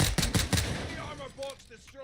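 Rapid pistol gunfire rings out in the Call of Duty Warzone video game, a quick burst of loud close shots followed by fainter game sounds with a voice speaking.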